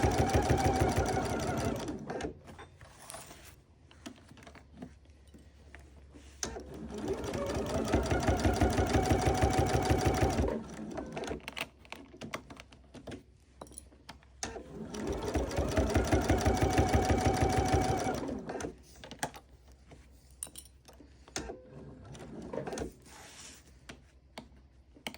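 A sewing machine stitches a Dollar Tree towel into an oven dress, running in long steady buzzing bursts that stop and restart several times, loud and close with no talking.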